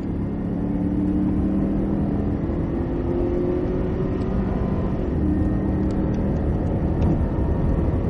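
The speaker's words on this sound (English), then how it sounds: "We're going full throttle here." A Cadillac CTS-V at full throttle on a racetrack, a steady loud engine drone with a rising whine heard from inside the car, continuous and unbroken.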